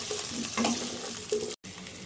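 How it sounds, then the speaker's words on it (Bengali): Potato pieces seasoned with turmeric and salt sizzle steadily as they fry in a pan, a continuous close, moderately loud crackle with faint stirring, broken by a brief silence near the end. "ভালো করে ভেজে নিচ্ছি।"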